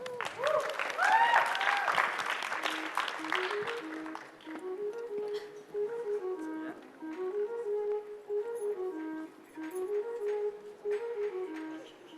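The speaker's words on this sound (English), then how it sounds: "please give a round of applause and welcome Meenal and Ankit for their mothe" Applause from guests at a wedding reception at a JW Marriott fills the opening seconds loudly, then fades as melodic music with a steady, repeating tune takes over.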